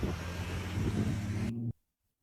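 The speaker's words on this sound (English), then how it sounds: "the car turned on, then quickly drove away" A car engine runs with a dense, rumbling drone, building slightly as the car pulls away, then cuts abruptly to silence near the end.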